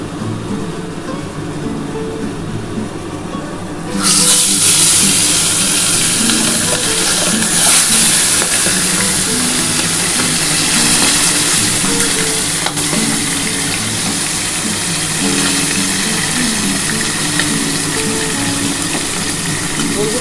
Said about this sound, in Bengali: এবার আমি তেলাপিয়া মাছটা একটা একটা করে ভেজে নেব।